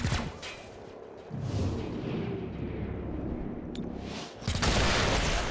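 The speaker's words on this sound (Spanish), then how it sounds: "con la otra disparo la torreta y fin" Heavy, booming gunfire in XCOM: Chimera Squad rumbles continuously, with a sharp burst of blasts near the end as a turret is shot, loud and close.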